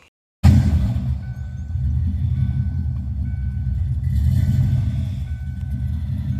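A Ford Mustang SN95 engine catches suddenly and settles into a loud, deep idle, rising briefly in a rev before holding its rumble.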